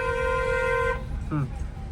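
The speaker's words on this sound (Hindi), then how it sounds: "लॉन्ग हॉर्न प्रेस करो" Car horn pressed in a long honk while driving in city traffic, a steady tonal blare for about one second, close and loud over road noise, followed by a brief voice.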